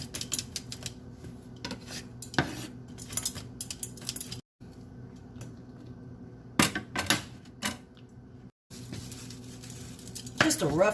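Garlic gets a rough chop with a knife on a cutting board in a home kitchen, sharp clustered tapping strikes in short bursts close by, separated by brief silent gaps.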